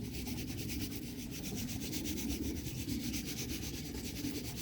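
Gritty granules sprinkled and rubbed into a worm bin, a soft continuous rustling scrape with rhythmic pulses, close and quiet.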